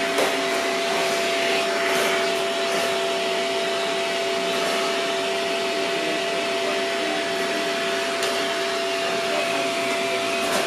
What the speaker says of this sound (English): Did a little bit of vacuuming just to...